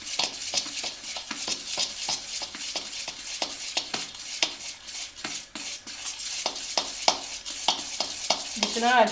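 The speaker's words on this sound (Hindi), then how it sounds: "अब इन चीज़ों को अच्छी तरीके से मिक्स कर लें।" Ingredients for a chocolate cake batter, including cream, are stirred in a bowl, making quick repeated scraping and tapping strokes of a spoon against the sides in a fairly steady rhythm.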